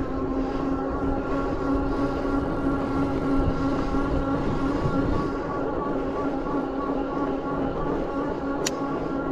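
A Rip Current S e-bike motor runs on throttle up a steep grade, giving a steady, continuous whine with constant wind and road rush throughout and no clear speech.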